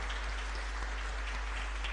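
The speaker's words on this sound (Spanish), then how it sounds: "un fuerte aplauso para ellos también" A church congregation at a Sunday Mass applauds the fathers present, a soft, even patter of many hands that sounds distant and faint, with no voices over it.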